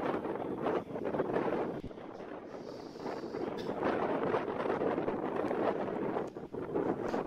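A steel-hulled Quang Binh fishing boat runs through high waves at sea off Phu Quy Island, heavy wind buffeting the microphone in surging gusts over a low engine and water rush, with no speech.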